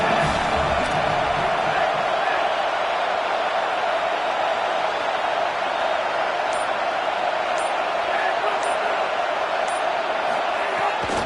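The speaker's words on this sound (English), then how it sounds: "This crowd trying to make life miserable for this offense." A college football stadium crowd keeps up a loud, steady roar of cheering and noise to rattle the offense, with a commentator talking over it throughout.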